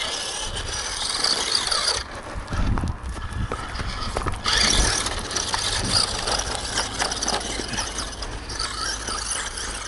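A Traxxas Bandit XL5 RC car drives outdoors, its electric motor whining and squealing as it revs and changes speed continuously. The noise is close and steady, with brief bursts of louder acceleration.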